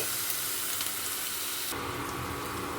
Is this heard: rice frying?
yes